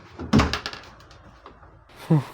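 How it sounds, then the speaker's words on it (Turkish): A door is pulled shut in a home: one solid thump, then a second, softer knock a moment later, with faint voices nearby. "O kapıyı çekmeyi unuttum."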